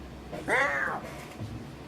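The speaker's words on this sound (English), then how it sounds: "Cat?" A cat lets out one clear, rising-then-falling meow at close range, lasting about half a second, with a faint second murmur shortly after.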